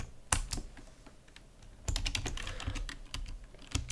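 Python code is typed on a computer keyboard in close, crisp bursts of key clicks, with sharp isolated strikes, a pause, then a denser run of rapid keystrokes.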